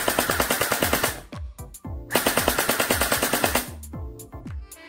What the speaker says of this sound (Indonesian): Dan sekarang kita test dia punya rate of fire